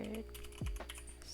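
Brief, soft clicking of keys being typed on a computer keyboard during network switch configuration, a few quiet taps heard alone.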